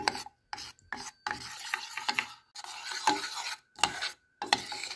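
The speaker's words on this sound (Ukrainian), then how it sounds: "Ось так помішуючи, ми зараз розбиваємо грудочки какао." A spoon stirring a thick cocoa mixture in a pot on the stove, breaking up lumps, with repeated rasping, scraping strokes separated by brief pauses, close and fairly quiet.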